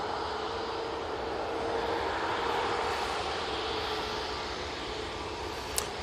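EasyJet Airbus A320neo departing Manchester Airport for Murcia, a steady moderate jet engine roar that holds evenly throughout, heard from a distance with a brief sharp noise near the end.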